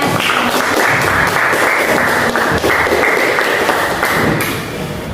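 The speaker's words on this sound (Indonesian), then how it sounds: "Tepuk tangan untuk kita ya" Children in a classroom clap together after a group counseling activity, a dense, steady burst of applause filling the space at close range with no talking over it.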